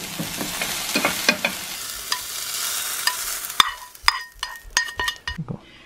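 Green onion garnish lightly heated and stirred in a pan for Singaporean rice gives a soft sizzle with repeated close utensil scrapes and clinks against metal, the frying fading out toward the end.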